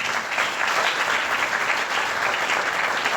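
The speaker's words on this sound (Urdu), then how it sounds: "آئے اس کے لیے زوردار تالیاں بجا دیں." A church congregation gives loud, sustained applause, a dense, even clatter of many hands clapping continuously without pause.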